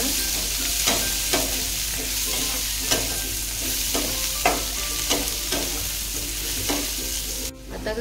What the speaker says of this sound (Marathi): आता हा चिरलेला कांदा सोनेरी कलर येतोपर्यंत परतून घेऊया.